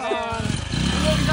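A farm tractor engine running close by, a rough low chugging putter that rises slightly as it goes, with people talking over it.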